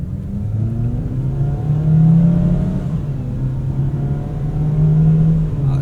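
A Mazda CX-60 with the 2.5-litre Skyactiv-G engine in Sport Mode, revving at low speed with a smooth, steady mechanical hum that rises and falls a couple of times, close and loud, with no talking.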